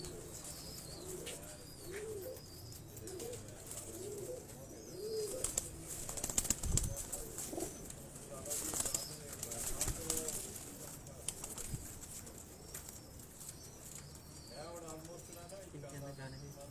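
Pigeons coo repeatedly in soft rhythmic phrases on a rooftop loft in Johar Town, Lahore, with wing flaps, chirps and clatter, and someone talking nearby.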